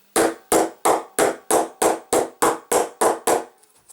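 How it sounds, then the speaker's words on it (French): A hammer taps on a metal bottle cap about ten times in a steady rhythm, each hit sharp and close with a short ringing decay, and the last few strikes trail off into faint clatter. "vous prenez votre marteau et puis vous tapez dedans."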